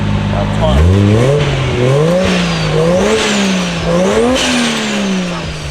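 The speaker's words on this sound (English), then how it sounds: "Rev it up." A coupe's engine is revved repeatedly, rising and falling in several loud, close sweeps with a whining overtone, while people talk over it.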